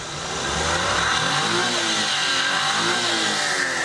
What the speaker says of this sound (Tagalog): So, yan po yung andar ng ating makina.